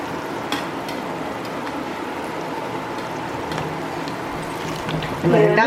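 Thattai, a crisp flat snack, fries in hot oil over a medium flame with a steady, soft sizzling crackle throughout. A voice is heard briefly near the end.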